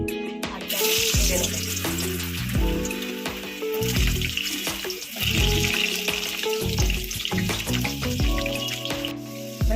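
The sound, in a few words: potatoes frying in a pan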